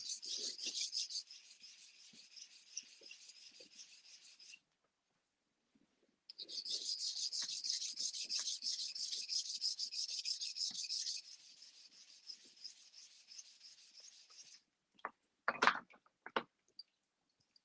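A nagura stone is rubbed across a sharpening whetstone in close, steady rasping strokes: two long scraping runs separated by a short silence, then a few sharp knocks and clicks at the end.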